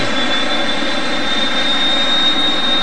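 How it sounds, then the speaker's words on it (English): The right jet engine of a Fouga 170 spooling up before taxi, a loud, steady turbine roar with a piercing high whine held throughout. "After we spool up the right engine, we release the brakes and start our taxi"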